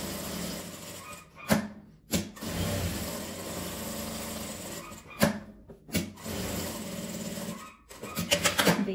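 A sewing machine stitches a fabric patch pocket in short, uneven runs of fast, whirring needle chatter, broken by brief pauses and sharp clunks, including a quick reverse stitch.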